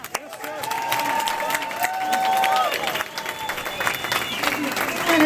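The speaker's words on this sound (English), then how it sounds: "another huge round of applause for Mayor Dean" Crowd applause and cheering from an audience at a political rally for a mayor, steady and full throughout with whistles and voices rising over the clapping.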